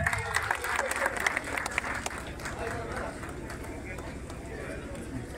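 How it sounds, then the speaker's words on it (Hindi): Applause from an audience welcoming a new member, an advocate, into an organisation at a gathering, clapping steady and fairly loud for several seconds, mixed with crowd noise and voices. "प्रीति साहू जी बहुत जोरदार ताली बजाएं उनके लिए"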